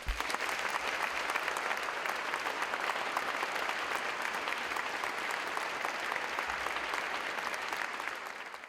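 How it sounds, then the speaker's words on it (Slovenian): A concert audience applauds a student choir at its 20th anniversary concert, a dense, steady wash of many hands clapping that holds loud for about eight seconds before tapering slightly at the end. "In si zaslužijo en ogromen aplavz."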